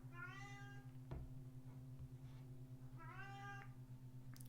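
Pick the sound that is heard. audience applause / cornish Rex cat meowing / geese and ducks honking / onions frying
cornish Rex cat meowing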